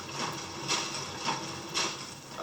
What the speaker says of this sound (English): And here is a printing press, which was in general use about the turn of the century.